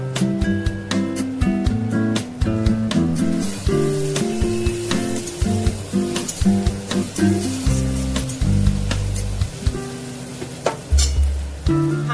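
Ginger paste hits softened tomatoes in a hot pan for a prawn and pointed gourd curry, sizzling continuously up close while a utensil stirs and scrapes in an irregular rhythm.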